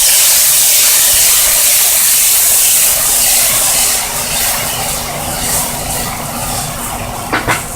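Water hisses and steams in a hot pan of new potatoes, a loud, steady sizzling wash that eases slightly partway through, with a couple of soft clinks near the end.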